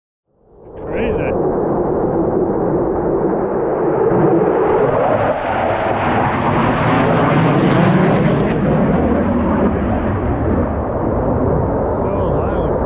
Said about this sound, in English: Jets just went over.